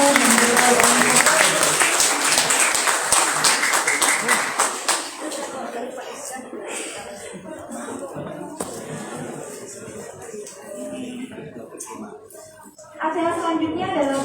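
Audience applause at a university cooperation signing ceremony, a dense burst of clapping that thins out over several seconds, with a spoken voice over the room and a brief renewed swell near the end.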